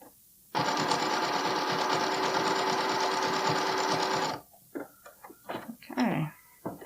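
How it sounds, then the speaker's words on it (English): Close sewing machine zigzag stitching on a bralette, one continuous burst of a few seconds with a steady whir, then it stops and light handling sounds follow. "I'm going to do one more zigzag this way, and then I can start pivoting."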